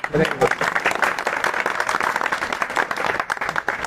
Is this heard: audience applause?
yes